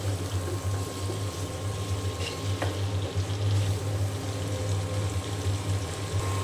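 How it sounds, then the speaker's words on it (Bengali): Sweet pumpkin stir-fries in a pan with a continuous low sizzle over a steady background hum, and one brief clink of stirring. The sound is near and moderate in volume, with no talking. "এইখানে যে মিষ্টি কুমড়ো ভাজিটা হচ্ছে"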